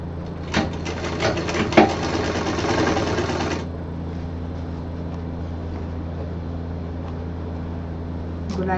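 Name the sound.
sewing machine stitching a bag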